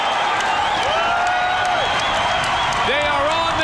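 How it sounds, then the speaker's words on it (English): A packed arena crowd roars and cheers steadily throughout a 2005 UFC fight at the Cox Pavilion, a dense wash of noise with a commentator talking over it. "Listen to the crowd react."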